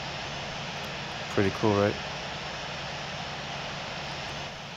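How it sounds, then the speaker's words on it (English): Jet engines winding down after shutdown in the Infinite Flight simulator, a steady broadband whine and rush that holds evenly across the clip, with someone briefly talking over it near the middle. "the engines are off. They're basically cooling down. They're just spinning."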